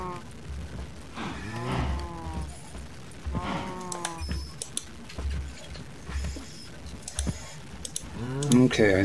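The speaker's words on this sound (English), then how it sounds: "Okay, cows." Cows mooing in the Minecraft video game, several drawn-out calls repeating through the clip at moderate loudness, with light clicking sounds in between.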